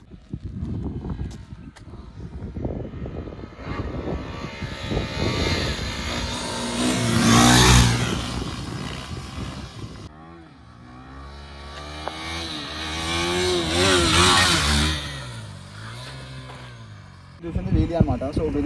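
A motorcycle engine revs hard during a wheelie, its pitch climbing and falling in two long surges with a brief dip between, loud and close. A voice talks over it throughout.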